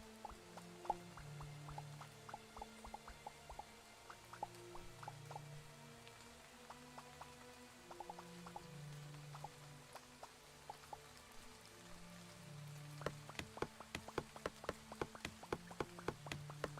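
Rain patters in the video game Starbound, a faint scattered drip-and-tap texture that thickens into denser, brighter drops toward the end over a low ambient backdrop.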